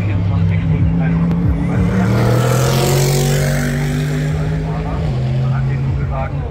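Race cars lap the Nurburgring in the opening laps of 24-hour race qualifying, engines howling and droning with rising and falling pitch as they pass close by, with voices faintly underneath.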